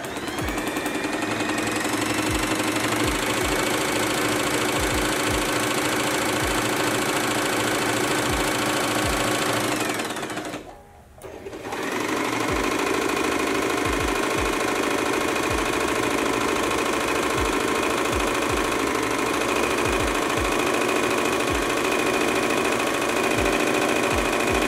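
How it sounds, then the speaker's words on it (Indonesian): Two Janome sewing machines, an NS311A and a 2222, run steadily and loudly up close with a rapid mechanical chatter, broken by one brief pause midway before the stitching resumes. "ini dia mesin jahit Janom NS311A dan juga Janom 2222"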